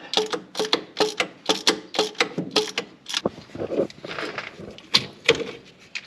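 A socket wrench ratchets in quick, rhythmic bursts of clicks while working loose a crispy old fuel pump on a Falcon wagon parked 38 years. The bursts are close and crisp, separated by brief pauses and a few duller clunks.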